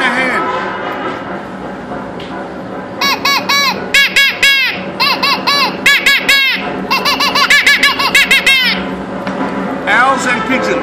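A person imitates a kookaburra with the voice, producing a long run of rapid, choppy, laughing cackles in loud, rhythmic bursts, preceded by some talk.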